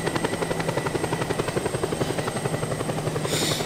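Helicopter flying in the video game Just Cause 2: a steady, loud rotor chop with a rapid even beat and an engine hum underneath, sustained throughout with no voices.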